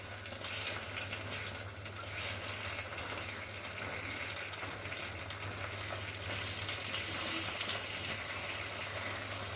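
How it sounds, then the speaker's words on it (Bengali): Potato and flattened rice (chira) frying in a pan: a steady, soft sizzle that carries on without a break, fairly faint and close, with a low hum underneath. "এটা আলু আর চিড়ে দিয়ে তো একটু নরম আছে, তো এটা ভাজলে বেশ মরমরে হয়ে যাচ্ছে।"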